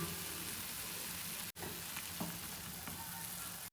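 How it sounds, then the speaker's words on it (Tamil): A pot of mushroom soup bubbles and hisses steadily at a low, even level, with a couple of soft knocks in between. "அஞ்சு நிமிஷம் ஆயிடுச்சு நல்லா கொதிக்குது"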